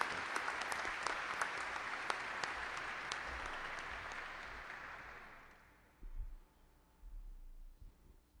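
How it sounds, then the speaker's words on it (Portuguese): An audience at a formal solemn session applauds Dr. Marcos Musafir, a close, full round of clapping that tapers off and dies away after about five seconds, leaving quiet room noise and small thumps. "eu peço aqui uma salva de palmas para o meu amigo"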